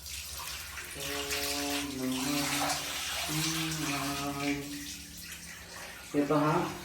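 Water pours in a steady, rushing stream while a person talks over it, poured as an offering onto a shrine stone beside Dhom dam, Wai.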